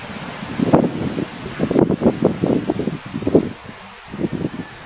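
Steady strong wind on a mountaintop roaring and buffeting across the microphone, with gusty bursts of rumble and rustle throughout, loud and close.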